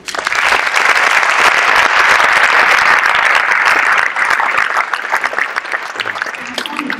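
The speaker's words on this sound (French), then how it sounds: "qu'avec vous j'applaudis très chaleureusement" Loud, sustained audience applause fills a festival opening ceremony hall, dense clapping holding steady for several seconds before thinning slightly toward the end.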